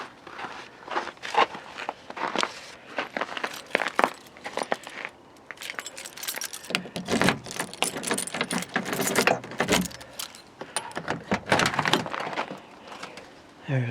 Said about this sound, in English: I'm going to unlock the truck.